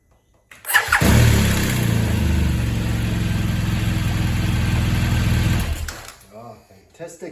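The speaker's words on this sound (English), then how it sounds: "Nice to hear that quick roar of the engine." A BMW 1200 GSA motorcycle engine cranks and catches with a quick roar, then idles steadily and loud up close for several seconds before cutting off, followed by a voice.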